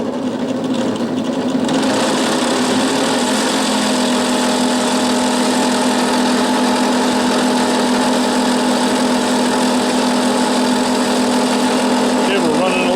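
A small electric motor in a 5-inch gauge electric locomotive runs steadily at low voltage, a continuous mechanical whir and hum with a fixed tone, fairly loud and alone throughout.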